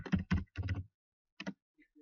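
Names are typed on a computer keyboard in short bursts of crisp, close key clacks, a quick cluster of strokes, a pause, then a couple more taps, alone in a quiet room.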